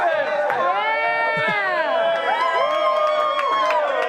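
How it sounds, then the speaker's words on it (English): A packed room of excited Ravens fans cheers and whoops for about four seconds, a steady, dense crowd roar that stays loud and close throughout with shouting voices layered on top. "Let's give another cheer for the Ravens"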